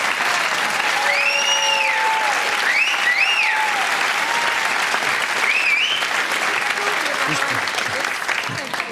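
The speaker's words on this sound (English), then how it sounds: "Round of applause for Natasha." An audience at a comedy show applauds steadily throughout, loud and sustained, with a few cheers and whoops rising over the clapping.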